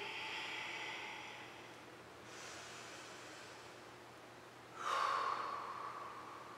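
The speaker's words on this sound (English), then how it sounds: "Make sure you're exhaling." During aerial yoga, slow, audible breaths and forceful exhales sound close to the microphone, with a sharp, louder exhale near the end over a soft, steady background hiss.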